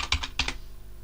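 A computer keyboard clacks out a quick burst of five or six keystrokes while a command is typed into a Debian Linux terminal, close and crisp, then falls quiet.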